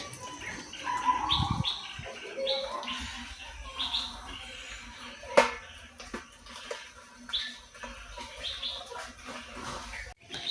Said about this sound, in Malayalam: കിളികളുടെ സൗണ്ടൊക്കെ കേട്ടില്ലേ?